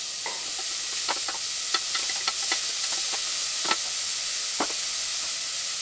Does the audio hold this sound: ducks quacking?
no